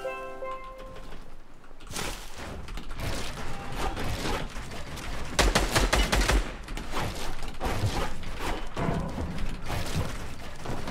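Gunfire in Fortnite at Tilted Towers, scattered shots and bursts amid clattering mechanical game sounds, moderately loud with a heavier volley midway, no talk.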